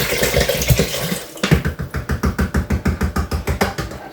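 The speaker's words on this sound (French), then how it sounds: "Là, j'en mets qu'un litre pour l'instant" Orange juice poured from a one-litre bottle into a container for homemade Christmas punch, a close, loud gushing stream that turns into rhythmic glugging as the bottle gulps air.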